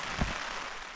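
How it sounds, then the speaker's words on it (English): Steady rain patters on a tent at a wild camp in the Lake District, a dense even hiss close by with one brief louder thump. "Still raining now, if you can hear it."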